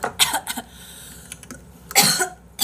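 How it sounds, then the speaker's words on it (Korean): Coughing from a person at a drinking and chat session, several bursts over a few seconds, with a loud harsh cough near the end, close and clear with no talk over it. "왜 이렇게 기침 많이 해?"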